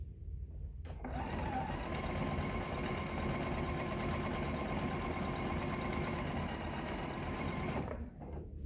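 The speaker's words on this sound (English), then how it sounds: "put it under my needle. Sew your 1/4 inch." Sewing machine running steadily as it stitches a quarter-inch seam on a fabric strip for a table runner, a close, continuous whirring drone that starts abruptly and stops after about seven seconds.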